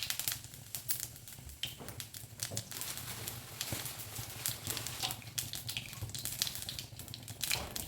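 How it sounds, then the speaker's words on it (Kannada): Mustard seeds and cumin crackle and pop in hot oil in a home kitchen, with quiet, dense sizzling and sharp spitting bursts scattered throughout. "ಈಗ ನೋಡಿರಿ ಎಣ್ಣೆ ಕಾದೈತಿ. ಅದಕ್ಕೆ ನಾನು ಸಾಸಿವೆ ಹಾಕ್ತೀನಿ ಮತ್ತು ಜೀರಿಗೆ ಹಾಕ್ತೀನಿ."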